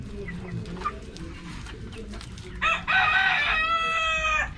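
Chickens cluck softly in a backyard coop before a rooster crows loudly and close, its long call holding for nearly two seconds over ongoing farmyard background noise.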